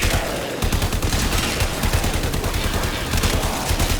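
Primary weapon gunfire from Warframe rattles in a dense, relentless rapid-fire stream, loud and close, with overlapping impact effects and no pauses.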